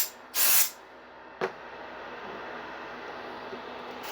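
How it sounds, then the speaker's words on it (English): A short, loud burst of compressed air sprays over a wristwatch on a plastic work area during a battery replacement, followed by a brief second puff, then quiet room hiss. "I'm going to blast here with the compressed air"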